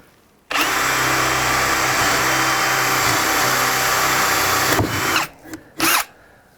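A drill with a dull bit bores into wood, a loud steady whine lasting about four seconds before cutting off, followed by a couple of short bursts.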